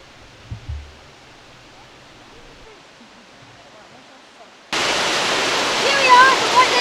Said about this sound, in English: Here we are at the White Lady Waterfall.